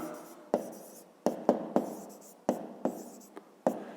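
A pen writes by hand on paper while numbers are being recorded; a series of sharp taps and short scratchy strokes, close and fairly quiet, spaced irregularly with soft trailing scrapes and no speech.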